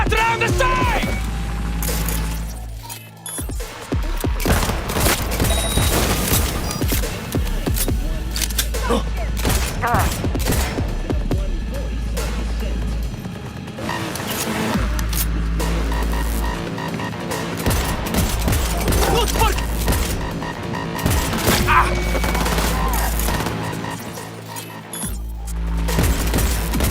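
Heavy, sustained volleys of video game gunshots and booms fill a loud battle scene, dense overlapping shots with brief pauses, with voices shouting over them at times.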